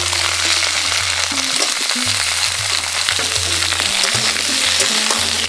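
Mixed winter vegetables and cauliflower fry in a pan with a loud, continuous, close sizzle throughout, over low tonal background music.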